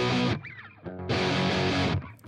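Electric guitar chords saturated by a tube mic preamp emulation plugin, two loud sustained distorted bursts separated by a brief quieter gap, with no voice over them.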